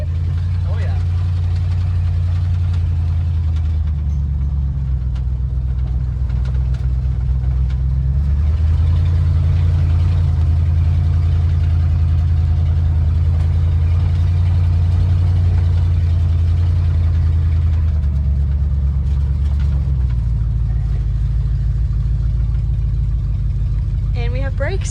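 A 1979 Ford F100 pickup, revived after ten years unused, runs with a steady low rumbling engine note that shifts pitch as the truck starts moving, continuous and close, with people talking over it.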